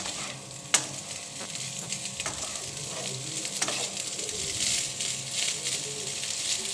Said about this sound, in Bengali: আমার কিন্তু ভাতটা ভাজা হয়ে গেছে আমার ভাতটা ভাজা করা